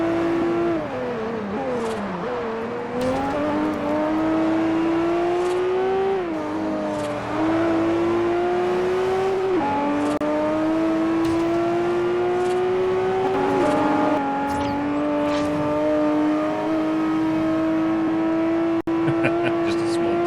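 A car engine in the Forza Horizon racing game, set in Japan, revs and climbs through repeated gear shifts, loud and sustained with a whirring drone for about twenty seconds.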